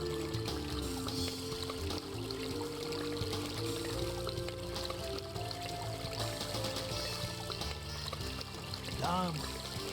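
Water poured into a glass in The Legend of Kyrandia, a soft trickling pour under retro game music, with a brief rising chime near the end.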